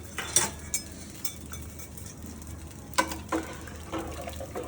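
A spoon stirs boiling dal with lemon in a cooking pot, a few sharp metallic clinks at irregular intervals over a faint bubbling background, close and fairly quiet.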